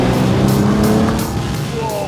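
A luxury car with an all-new 600-horsepower W12 engine accelerates hard, giving a loud, close, continuous roar with rising engine tones over about two seconds.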